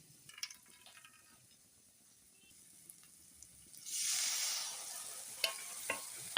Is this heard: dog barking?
no